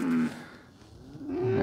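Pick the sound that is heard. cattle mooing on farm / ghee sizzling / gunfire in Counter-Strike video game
cattle mooing on farm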